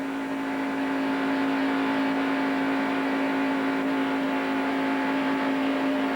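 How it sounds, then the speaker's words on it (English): NASCAR stock cars racing in a 1990 Daytona 125 qualifier give a constant loud engine roar with a steady droning whine, the field passing without break and no talk over it. "look at Terry Labonte just drove on by them on the inside, that one car."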